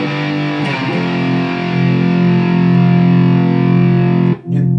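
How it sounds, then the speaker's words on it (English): Electric guitar played through a Fender Supersonic amp model on a Fender Mustang Fuse setup, a hot, driven tone: a sustained distorted chord ringing loud and steady, with a brief pick scrape before it cuts off near the end. "you've got the Fender Supersonic, of course. A little bit hotter sound to it"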